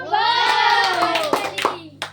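Children clap their hands in a quick burst of sharp claps during a bottle-flip candy game, mixed with overlapping kids' voices and chatter that carry through the whole moment, with a final louder clap near the end.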